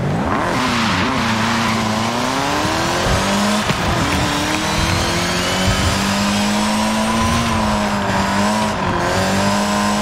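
A stock car in Forza Horizon 5 revs loudly and steadily, its engine note climbing and dipping through several rises across the run, with tyre noise mixed in and no talk.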